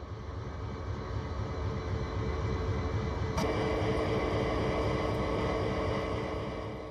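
A CSX heavy-haul locomotive in Train Sim World hums and rumbles steadily at low volume, with one sharp click partway through and no voices.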